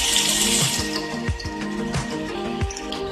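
Water is poured into ground masala paste frying in hot oil in a pan while cooking chicken varuval, giving a steady loud sizzle and splashing with a few gurgling drips throughout.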